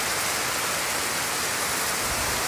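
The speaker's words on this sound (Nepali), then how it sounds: "अहिले पानी पर्दो छ" Steady rain pours down on a hillside house, an even, close hiss of falling water with no pauses or other sounds.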